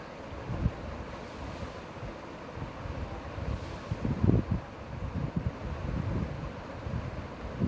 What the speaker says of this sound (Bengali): কাটা পেঁয়াজ দিয়ে দিই। তেলের সাথে ভালো করে নেড়েচেড়ে মশলাগুলোকে ভেজে নিচ্ছি।